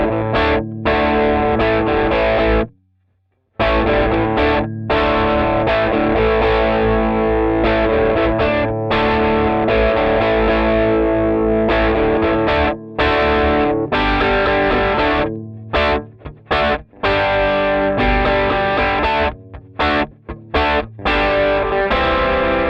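Distorted electric guitar plays the verse into the pre-chorus of a song, loud chugging chords with brief rhythmic stops and one full break, continuous and close without voices.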